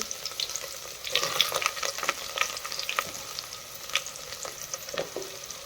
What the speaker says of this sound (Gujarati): આપણે તેલ આવી ગયું ને જીરું નાખી દીધું ને મરચાની ખરચી નાખી